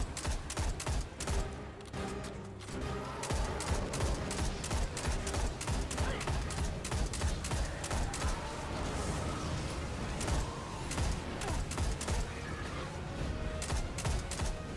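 Gunfire from the MIDA scout rifle in the video game Destiny 2, with rapid repeated shots cracking through dense game effects and mechanical noise at a steady, continuous level.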